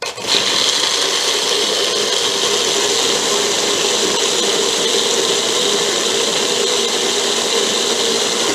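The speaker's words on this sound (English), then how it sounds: "depending on your blender, you probably need to blend it from 30 seconds to a minute" A Magic Bullet blender whirs steadily while blending oats or coconut with water into milk, a loud, constant motor drone with no break and no voices.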